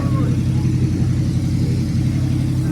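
Buick Regal with a swapped-in LS 5.3 V8 idling, a deep steady rumble with a slight lope, close and continuous for a few seconds.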